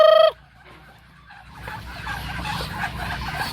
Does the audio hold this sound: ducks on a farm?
yes